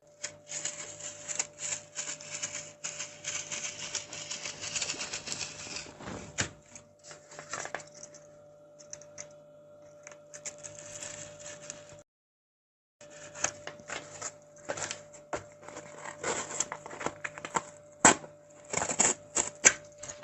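Cutting a wooden piano piece by hand, a quiet series of irregular clicks, taps and scraping strokes that come and go with short pauses and a steady faint tonal hum behind.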